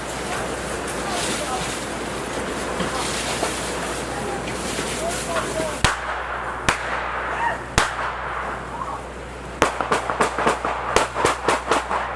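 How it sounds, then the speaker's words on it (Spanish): Sharp, echoing gunshots crack out, a few spaced apart, then a rapid irregular burst of shots, with muffled voices and background noise underneath. "Los disparos resonaron por todo el barrio"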